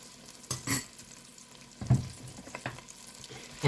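Onions and garlic softening in a soup pot, a soft sizzle broken by a few stirring scrapes and clacks, brief and fairly quiet with no talking.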